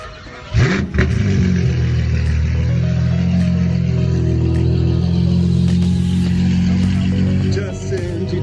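A modified Novitec McLaren 720S-style supercar fires up with a sharp bark, then settles into a loud, close, steady idle with a slight rev swell, heard outdoors at a supercar meet.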